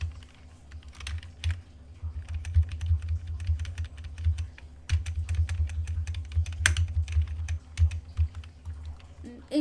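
Rapid, uneven clicking of keys on a computer keyboard, close and fairly quiet, with brief pauses between bursts over a low background hum.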